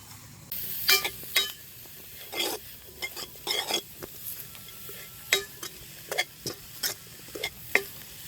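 A goat-meat and leek filling is stirred and fried in a pan, with a soft sizzle underneath and a spoon scraping and clinking against the pan in irregular strokes. No one speaks.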